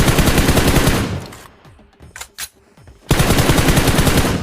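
Rapid automatic gunfire in a shooting video game, loud and dense, breaks off into a quieter gap with a few scattered shots, then resumes in heavy sustained bursts.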